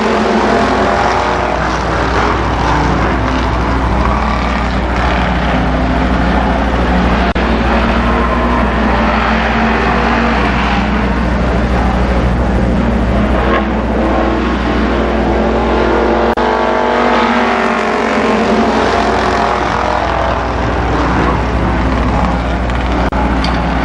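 Race cars circle Columbus Motor Speedway at the 1992 Memorial Day Classic, a loud, continuous roar of multiple engines with a fluctuating drone that swells and fades as the pack passes.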